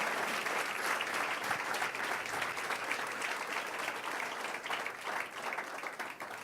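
A church congregation applauds in a steady, even wash of clapping that holds throughout, moderately distant and with no voices on top.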